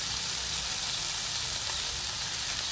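Chicken pieces with garlic, curry leaves and green chillies frying in a little oil, giving a steady, close, even sizzle and hiss that keeps up without a break and with no voices.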